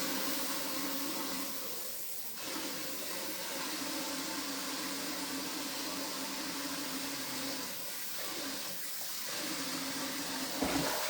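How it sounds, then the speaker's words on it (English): Steak rinsed under a running kitchen tap before grilling, with water streaming steadily and loudly for several seconds as the flow briefly shifts where the meat passes through it. "So I got this steak, rinse it off."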